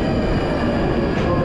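Steady rumbling London train noise with a constant low roar and faint rail hiss, fairly close, no voices.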